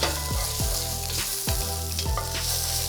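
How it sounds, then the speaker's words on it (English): Lentils stirred in a hot pan sizzle steadily, with a few spoon scrapes against the pan on top of the frying hiss. The sound is close and fills the clip, with no talking. "So you can add them to the pan, stir that around."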